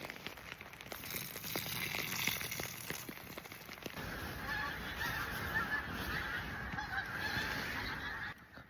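Hundreds of geese fly overhead at a rainy hammock campsite, their honking a busy, overlapping chorus that carries on throughout against a soft hiss of rain, with no talking.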